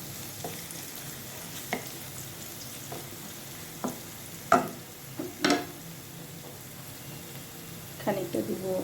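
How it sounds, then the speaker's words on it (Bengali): Onions fry in oil on a stove, giving a low steady sizzle punctuated by periodic scraping stirs of a spoon against the pan, heard up close. "এজন্য আমি চুলায় তেল দিয়ে পেঁয়াজ দিয়ে দিলাম"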